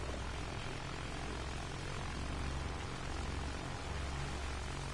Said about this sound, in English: Dude, these planes are so much fun.